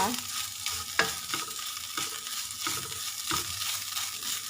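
Shallots and curry paste being stir-fried in a pot with only a little oil, a steady sizzle broken by repeated scraping strokes of a spatula at roughly one-second intervals, fairly close.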